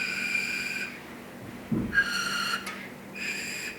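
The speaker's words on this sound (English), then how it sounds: "And it'll make kind of a whistling noise." Airy whistling tones made by blowing through the top of a tube, in short separate bursts with pauses between them, fairly faint and close, with no talking.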